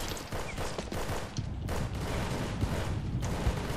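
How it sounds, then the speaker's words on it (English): Gunfire in the Roblox game Unit 1968: Vietnam: steady rapid bursts of distant rifle and machine-gun fire rattle on continuously, fairly faint and without talk. "They're shooting over there, but I don't see them."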